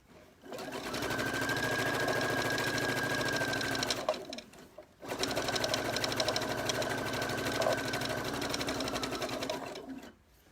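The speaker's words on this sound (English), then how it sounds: "I'm going to stitch to my pin. So you get to sew really fast." A sewing machine stitches a children's t-shirt dress in two fast, steady bursts of rapid mechanical whirring, separated by a brief pause.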